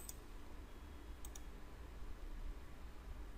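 Two or three faint, sharp computer mouse clicks tick against a steady background hiss, close but quiet, with no voice.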